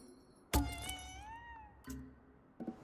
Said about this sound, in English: This cat wants the socks.